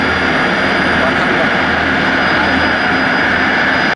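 A cargo airplane carrying humanitarian aid tents from Pakistan roars loud and steady with constant engine noise, then cuts off abruptly at the end.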